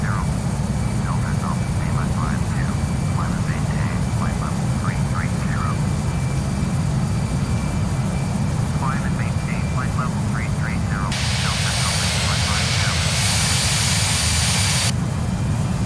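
Airbus A319 jet engines in a steady, loud climb toward cruising altitude in Flight Simulator X, a continuous broadband roar with repeated short chirping tones and a brighter hiss in the later seconds; a voice is heard over it.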